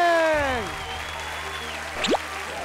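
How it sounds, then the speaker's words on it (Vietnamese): At a televised music show, an audience applauds with a steady wash of clapping beneath sweeping electronic sound effects and a brief chime. "Xin vỗ tay thật to"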